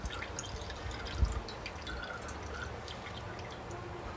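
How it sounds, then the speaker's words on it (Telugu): Grated pumpkin squeezed in a cloth releases water that trickles and drips into a bowl, faint and close, with one soft thud. "ఇట్లా పిండితే మన వాటర్ అంతా వచ్చేస్తుంది"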